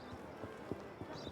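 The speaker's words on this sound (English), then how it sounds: "throwing a smoke bomb next to a carriage will make the horses panic and" Hooves clip-clop in a quick, uneven run as panicked horses bolt from a carriage in Assassin's Creed Syndicate, moderately close and fairly soft under a faint background bed.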